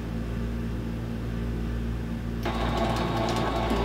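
A domestic sewing machine stitches vinyl for a clutch wallet, a steady close motor whir that turns into a faster, louder rapid needle chatter partway through.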